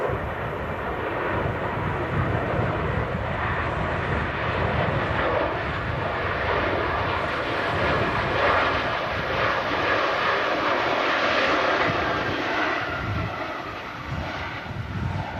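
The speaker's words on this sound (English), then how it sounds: "The Ryanair just arriving in after just a 38-minute flight." A Ryanair airliner lands at Manchester Airport in strong gusty wind, its jet roar loud, broad and sustained, swelling slightly as it passes near.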